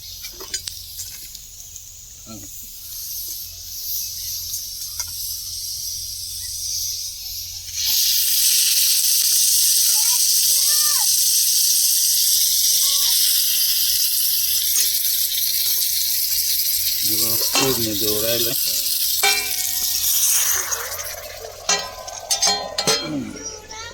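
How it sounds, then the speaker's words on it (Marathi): Oil poured over a heated stone for crab curry tempering bursts into a loud, steady sizzle that hisses on for many seconds, with some clinks and a voice speaking near the end. "आता वरून तेल टाकतो"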